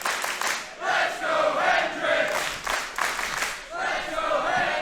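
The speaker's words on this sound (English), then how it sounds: "Crowd are starting to feel it here too. Support for Hendry getting louder and louder" A wrestling crowd at a live show roars and cheers in surging waves, loud and sustained with brief dips between swells and scattered clapping mixed in.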